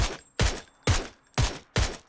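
Five sharp gunshot bursts fire at an even pace in PUBG, each a loud crack with a quick decaying tail, like game gunfire close up.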